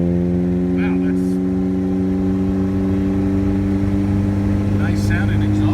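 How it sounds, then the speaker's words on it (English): A 1961 Triumph TR3B hums with a deep, steady exhaust drone, holding a low rumble rather than revving sharply, close and continuous. "nice sounding exhaust"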